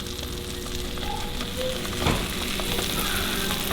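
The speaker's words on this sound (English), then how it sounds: "All right, so we got about a half a stick of butter in here in our cast iron. Got about a 1/4 cup of flour. We're gonna sprinkle that in" Flour sprinkled into about half a stick of melted butter in a cast iron pan over low heat, giving a soft, steady sizzle with a brief louder burst midway.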